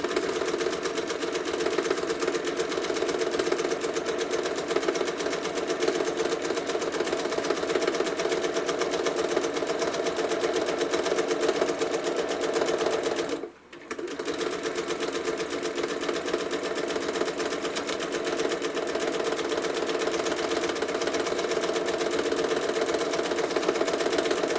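A sewing machine stitches a quilt in a fast, steady mechanical chatter that runs continuously, pausing for a moment midway before resuming at the same rapid rhythm; no talking.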